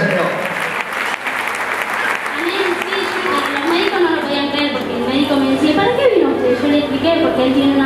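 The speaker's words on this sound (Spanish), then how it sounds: "Dale el aplauso al Señor" Congregation clapping at an evangelical campaign service, steady applause throughout with a voice and shouting audible over it.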